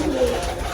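Pigeons in a loft, including nesting pairs, give a low continuous cooing that sits close and steady through the short moment, with no talk over it.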